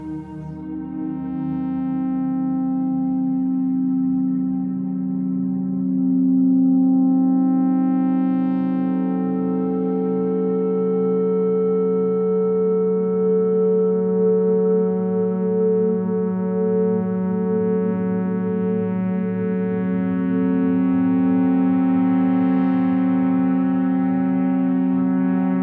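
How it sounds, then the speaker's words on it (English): Sustained modular synthesizer oscillator tones hum in layered harmonics, slowly shifting and swelling with echoing, reverberant tails; no voices. "adding some echo and reverb to the overall patch gives us a beautiful soundscape"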